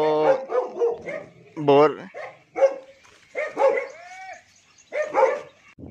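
Dogs in a rural village farm area with date palms bark angrily in repeated sharp, agitated bursts, fairly close, with a brief voice heard between barks.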